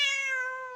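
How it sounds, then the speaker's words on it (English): A single short cat meow, close and clear, rising then trailing off over less than a second with nothing else around it. "C is for cat."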